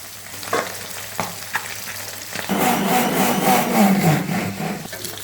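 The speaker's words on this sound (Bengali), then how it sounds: "আর এক পিঠ খুব ভালো করে আমি ভেজে নেবো।" Pabda fish sizzles loudly in hot oil after a few soft clatters, the frying hiss swelling and holding steady close by.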